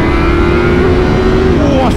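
A 2023 BMW M1000R four-cylinder sport motorcycle engine roars loud and close, holding a steady high-revving drone that rises slightly at the end, with a rider's voice over it.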